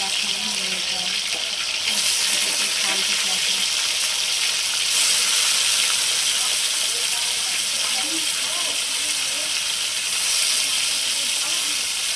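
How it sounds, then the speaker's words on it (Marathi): Paneer frying in oil in a pan, a steady loud close hiss and sizzle that swells at points and continues throughout, with faint background noise and no speech over it. "आता चला आपण पनीर आपल्याला तळून घ्यायचं आहे आणि आता तळून घेऊया आपण"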